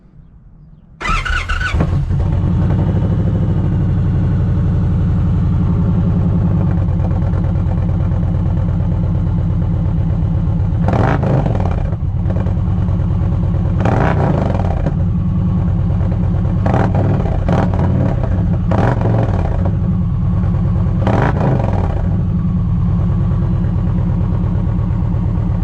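An Indian motorcycle fitted with a Stage 1 intake and BAM sticks fires up and revs in neutral, a loud, close, steady engine rumble broken by repeated throttle blips that swell and fall back.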